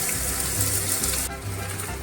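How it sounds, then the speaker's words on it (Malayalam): Sliced onions fry in olive oil in a pan, giving a steady, close sizzle that dips slightly partway through. "ഇനി നമ്മൾ സവോള വഴറ്റാനായിട്ട് പോകുന്നത്."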